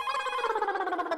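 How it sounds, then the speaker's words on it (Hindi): A telephone rings in a comedy sitcom household scene, a steady electronic ringing tone held for just over a second, clear and close with no talk over it. "फोन आया।"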